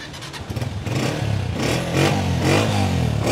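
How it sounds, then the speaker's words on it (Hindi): A Honda 125 self-start special edition motorcycle starts up with a brief electric-starter clatter, then its small single engine catches and runs at a loud, close, uneven idle with slight revving. "सेल्फ स्टार्ट के बटन पे हल्का सा हाथ रखा, बाइक हुई स्टार्ट"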